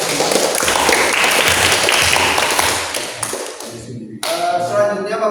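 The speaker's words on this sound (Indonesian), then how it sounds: "tepuk tangan dulu untuk" Classroom applause for student groups who presented at the front of the class, a dense burst of clapping that fades, then gives way to a voice talking.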